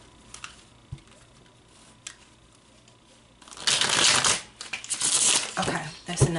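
Soft riffling and slapping of tarot cards being shuffled close by, starting after a few quiet taps and continuing in bursts.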